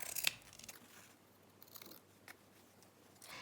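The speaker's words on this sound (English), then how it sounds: "So I'll just cut a piece of this." Scissors snip through paper, cutting a rectangular piece for a collage page in an altered book junk journal, a few quiet close crisp snips near the start and then softer rustling.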